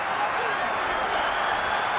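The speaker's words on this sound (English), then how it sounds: "Listen to the crowd roar" A stadium crowd roars during a 2010 Super Rugby match between the Bulls and the Waratahs, a dense and steady wash of massed voices that continues beneath a commentator's talk.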